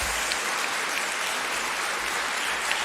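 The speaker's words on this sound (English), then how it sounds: "A round of applause for Mary as she rests her case." A debate tournament audience applauds a student debater who has just finished her case, with dense, steady clapping that holds at an even level for a few seconds.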